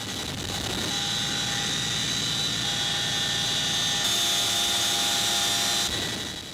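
A military helicopter carrying paratroopers climbs toward 3,000 m for a Korean armed forces anniversary jump, with a loud, constant rotor and turbine roar and a high whine heard from inside the cabin.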